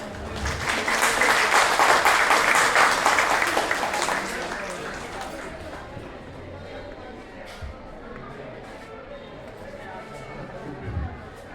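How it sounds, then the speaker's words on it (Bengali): An audience at a farewell and welcome ceremony of an upazila health department claps loudly for about four seconds, then the applause fades under a speaking voice and low hall murmur. "আমরা সবাই করতালি দিয়ে তাকে বরণ করেছি"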